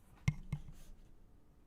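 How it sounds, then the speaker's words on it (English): A couple of soft, close button clicks, two sharp taps about a quarter second apart, followed by near silence. "It's just me clicking on a button."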